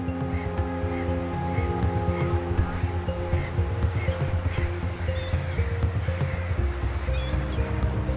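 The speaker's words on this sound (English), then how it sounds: "Hungry birds plunge into the sea like harpoons." Seabirds in an offshore feeding frenzy off South Africa, a dense, continuous chorus of overlapping calls with steady droning tones and surf beneath, loud and sustained throughout.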